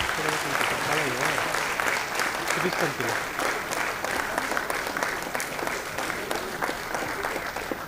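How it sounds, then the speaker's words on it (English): An audience applauds during the 2023 annual convocation of Ramaiah Institute of Management: sustained, dense clapping from a sizable crowd runs throughout, with voices and some talk audible beneath it. "A big round of applause to Namita."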